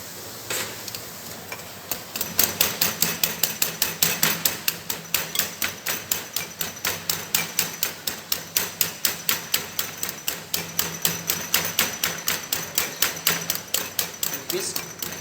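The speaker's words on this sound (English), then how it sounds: "So whisk all the ingredients." Mango kulfi ingredients are being whisked in a bowl, making a rapid, regular series of sharp taps of the whisk against the bowl. The tapping is close and steady, starts after a quiet couple of seconds and carries on to the end.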